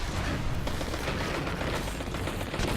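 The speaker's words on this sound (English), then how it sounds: "Let's non-violently kill it with our guns and explosions." Dense, continuous gunfire and explosions from the video game Destiny 2 during a fight with a giant creature. The rapid, overlapping shots and booms stay loud for the whole stretch.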